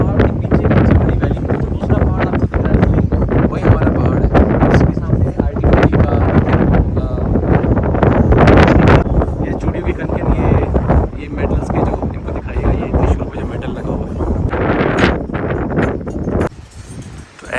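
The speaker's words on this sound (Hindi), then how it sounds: "हवाओं की तेज़ आवाज़ है आज।" Strong mountain wind at a temple near IIT Mandi, Himachal Pradesh, buffets the microphone in loud, roaring gusts that barely let up, with rumbling low noise throughout and a brief lull near the end.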